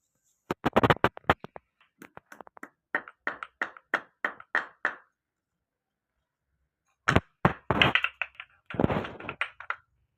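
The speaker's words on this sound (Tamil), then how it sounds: "இப்போ இந்த கிராம்பையும் சேர்த்து மிளகோடு போட்டு நம்ம இடிச்சுக்கலாம்" Cloves and black pepper pounded together by hand: two bursts of sharp, rhythmic knocks, fast then steadier, separated by a few seconds of silence, close and fairly loud with no voices.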